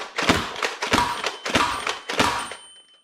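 Dart Zone Conquest Pro foam dart blaster slam firing: four heavy, evenly spaced thumping shots about every 0.65 seconds, close and loud, each a sharp mechanical thud with a brief rattle.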